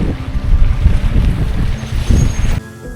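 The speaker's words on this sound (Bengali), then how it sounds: "এখানে প্রচণ্ড বাতাস" Loud, strong wind on a riverbank in a Sundarbans village buffets the microphone with a deep rumbling roar that cuts off abruptly near the end.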